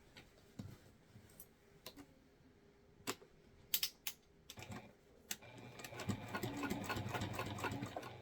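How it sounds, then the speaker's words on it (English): Sewing machine top stitching along a bag lining panel an eighth of an inch from the edge, short bursts of stitching with pauses, then a longer continuous run toward the end. "we're going to top stitch along this lining panel"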